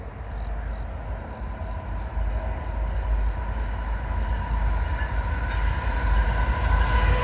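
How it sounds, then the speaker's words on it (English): A long Canadian National oil train with ET44AC, SD70M-2 and ES44DC locomotives rumbles steadily past, deep low-frequency roar with rattling cars building slightly louder over several seconds, no voices. "Here comes the other train,"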